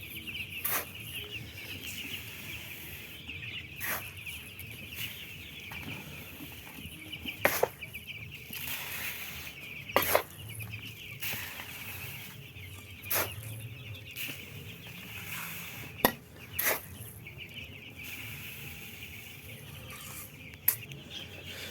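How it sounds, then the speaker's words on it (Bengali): Chickens on a poultry farm of around 500 birds cluck in scattered, overlapping calls, with sharp clicks and brief flaps standing out against a quiet, roomy background. "500 পিস মুরগি আছে খামারে"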